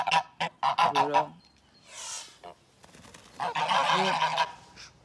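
Farm geese honking loudly and close by, several harsh nasal calls in bursts with short pauses between them, no talking.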